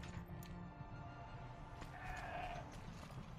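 Goat in Horizon Zero Dawn: The Frozen Wilds, one short, faint bleat over quiet game ambience in a snowy wilderness.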